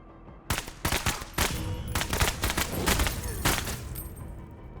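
Gunfire in a tactical video game, rapid bursts of sharp shots and automatic fire cracking in quick succession for several seconds, loud and close with no talking.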